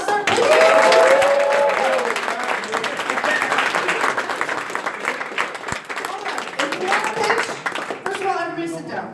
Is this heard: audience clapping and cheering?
yes